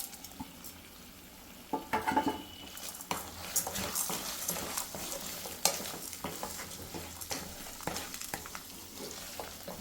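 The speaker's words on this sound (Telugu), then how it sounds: "సో ఇప్పుడైతే పప్పులు వేగాలి." Chana dal, split chickpeas and urad dal frying in a pan for coconut rice, a steady soft sizzle with scattered stirring scrapes and clinks, moderately near, no talk.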